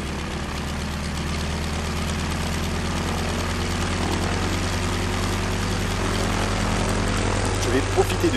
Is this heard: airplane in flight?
yes